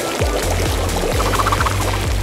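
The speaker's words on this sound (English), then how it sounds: "All we gotta do is put it in hot water. Turn on your kettle and wait!" Hot water poured from a kettle in a home kitchen, a steady close splashing pour with rhythmic low gurgles running continuously for a couple of seconds.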